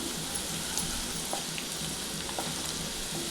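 Sliced onion with turmeric fries in oil while being stirred in a pan for bitter gourd fry, giving a soft, even sizzling hiss with faint stirring scrapes, quiet and unbroken.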